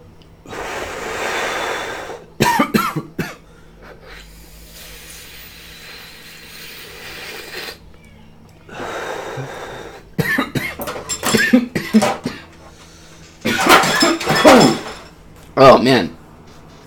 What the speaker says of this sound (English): And still coughing.